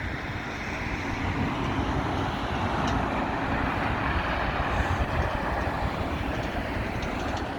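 Trams roll past in a steady, loud rumble of rail and wheel noise lasting throughout, with broad hiss and faint clatter and no talking.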